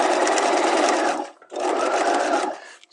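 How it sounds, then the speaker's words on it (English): A sewing machine stitches an in-seam pocket with lengthened stitches, whirring steadily up close in two runs separated by a brief pause. "now I'm going to lengthen my stitches and continue stitching from that first notch"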